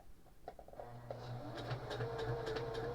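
A Pfaff 140s sewing machine stitching a buttonhole forward, starting with a few soft clicks before settling into a steady, close mechanical hum with a faint rhythmic pulse of stitches throughout.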